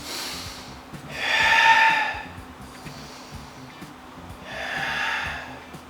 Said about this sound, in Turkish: Aldım nefes.